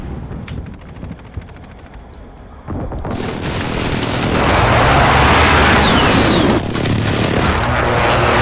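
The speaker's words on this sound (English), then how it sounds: "Enemy precision airstrike inbound" Explosions from an enemy precision airstrike in Call of Duty Modern Warfare: scattered gunfire and impacts give way to a sustained, loud rumbling barrage of blasts that rolls on for several seconds, with a sharp extra hit near the end.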